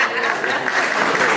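Congregation clapping together at a church service during an Advent homily, a steady dense wash of applause filling the whole moment at moderate loudness.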